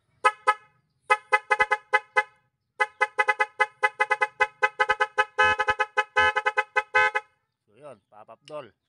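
A motorcycle horn being tested honks in a rapid series of short, loud toots with brief pauses, then a few longer blasts before it stops.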